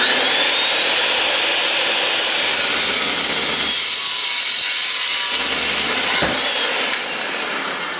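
Hand saw cutting through pipe makes continuous, close rasping strokes with a brief pause mid-cut and a sharp knock near the end, no talking.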